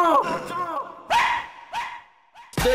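Dogs bark in a string of sharp, close yips and yelps, several bursts separated by short pauses, ending in a loud bark.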